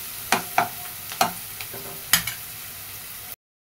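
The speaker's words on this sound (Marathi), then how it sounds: "चांगलं मस्त असं तळून घेऊया." Onion and garlic fry in a pan, a soft sizzle punctuated by several sharp scraping stirs of a spoon, close and clear with no talking, cutting off abruptly at the end.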